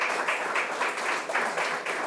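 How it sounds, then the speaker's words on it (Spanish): A church congregation gives a steady round of clapping as an offering of praise to God, a continuous, fairly soft wash of many hands with slight swells in intensity throughout. "Dar una ofrenda de palmas a Dios"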